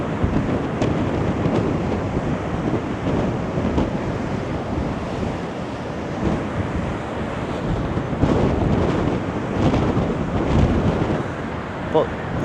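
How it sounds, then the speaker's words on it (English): Strong wind roars across the microphone on the Blackpool promenade with waves surging nearby, a dense steady buffeting rush throughout, loud and close. "this wind is definitely giving the whole of the northwest"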